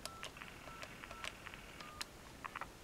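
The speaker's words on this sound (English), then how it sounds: "I'll just dial the same number." Telephone dialing tones on a multiple-precedence line, a quick sequence of short DTMF beeps pressed in uneven rhythm, faint over a steady background hiss.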